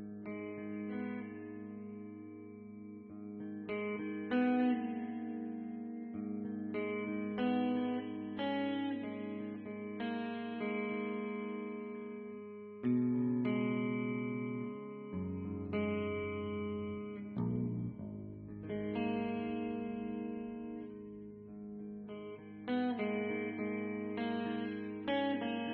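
A Chapman ML1 Modern Baritone V2 electric guitar, played clean through a Focusrite Scarlett 2x2 into Logic with STL Tones Will Putney Suite amp simulation, rings out in sustained chords and arpeggiated notes, steady and alone for about twenty-five seconds.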